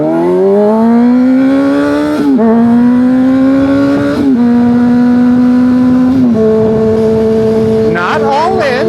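A super sport motorcycle accelerates hard through the gears, its engine note climbing in long pulls with brief dips at each shift, loud and close; a voice speaks faintly beneath the roar.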